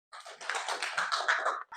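Classroom applause for a student discussion group, a brief burst of scattered hand claps from a small class, fairly close and alone.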